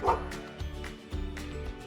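A game dog in Too Many Sheep gives a few quick cartoon woofs and yips in a bouncy rhythm, a close, moderately loud sound effect with faint background music underneath.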